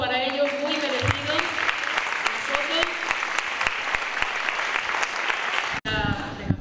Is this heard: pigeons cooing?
no